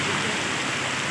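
Rain falling steadily, a dense continuous hiss with soft patter, close and even throughout with no voices.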